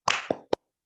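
A class claps out the rhythmic Indonesian 'tepuk semangat' pattern: three sharp claps in quick succession, the first a double smack, the last a single crisp slap, close and fairly loud with no talking.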